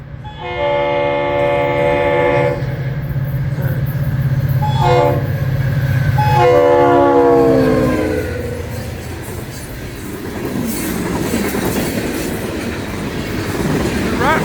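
A red, white and blue locomotive honoring veterans passes close by, sounding long, loud horn blasts in several bursts over a steady engine rumble, then rolling on with rattling wheel noise as the horn stops.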